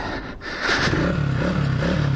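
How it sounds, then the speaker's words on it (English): A 1970s Honda CB125 motorcycle engine catches on the first kick-start and settles into a steady, slightly uneven idle, close by. "There we go, first kick, lovely. Really sweet engine off it."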